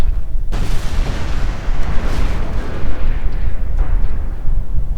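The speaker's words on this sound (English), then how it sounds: "That seemed like an awfully big explosion." A huge explosion in the World War II strategy game Company of Heroes 2 erupts suddenly after a brief quiet, a loud booming blast followed by sustained rumbling and crackling that fills the rest of the clip.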